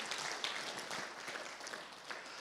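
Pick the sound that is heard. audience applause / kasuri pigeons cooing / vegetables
audience applause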